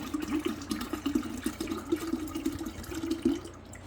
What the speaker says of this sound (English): So now I'm going to add water into this.